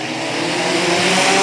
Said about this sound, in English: Ready to get on the gas now with seven laps down.